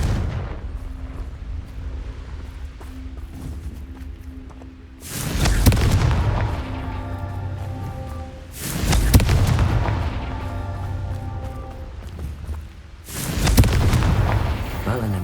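Confringo fire spells from Hogwarts Legacy detonate in three heavy booming blasts, each a loud roar that fades slowly into the quieter game ambience between them.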